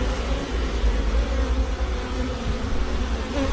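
Honey bees swarm around a crowded hive in hot weather, some fanning at the entrance to cool it, giving a steady, dense buzzing hum that stays close and continuous with no voices.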